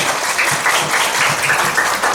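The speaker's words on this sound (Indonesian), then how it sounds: "Tepuk tangan semuanya." Audience applause at a wedding reception, a steady dense patter of many hands clapping throughout without a break, fairly loud and close.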